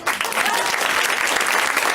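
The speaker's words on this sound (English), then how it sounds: "Please start applauding even now." A comedy show audience bursts into loud, dense applause that holds steady for the whole stretch, close and unbroken, with no voice rising above it.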